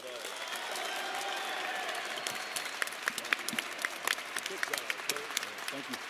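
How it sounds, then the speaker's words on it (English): Audience at a university football press event applauds its new head coach, steady clapping that swells then thins into scattered claps, with crowd noise and speech mixed underneath. "Clap for him like you like him, not like you're mad at him."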